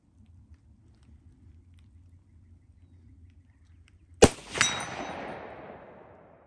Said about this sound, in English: I'm going to go for the 100-yard shot. Which is the far orange target